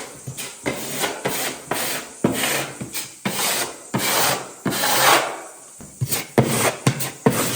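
A filling knife scrapes filler into holes in a hallway wall in loud, close, rhythmic rasping strokes, each lasting under a second, repeated steadily with short pauses between them.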